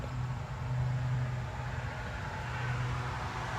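A combustion-engine car passes, a steady broadband roar with a low engine drone that swells slightly and holds throughout, fairly close and without voices.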